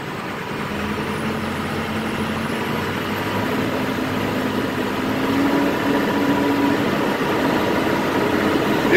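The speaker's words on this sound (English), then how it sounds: "I'm gonna go ahead and run up the RPMs." A 2007 International 4200 flatbed truck's engine runs steadily and rises slightly as the revs are brought up, a continuous loud low rumble with no talk.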